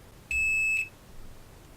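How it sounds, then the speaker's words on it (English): A single clean electronic tone from a multimeter in continuity mode, probing the power button pin on a drop-damaged motherboard's front panel header; one steady beep about half a second long, close and clear over a quiet background. "if we beep out the power button pin on the front panel header,"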